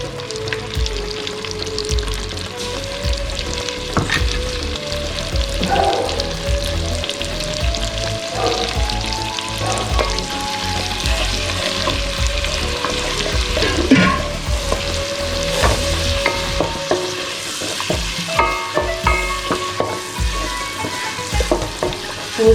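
Crushed ginger, green chili and garlic paste fry in a hot pan for Arabic prawn kabsa rice, giving a steady close sizzle with scraping stirs and clinks throughout, and no voices.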